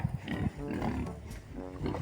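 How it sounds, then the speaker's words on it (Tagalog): Pigs grunt and snort close by in a crowded pen on a farm, with rough overlapping low grunts and a brief squeal under steady background noise. "Ito sila oh, mga baboy oh."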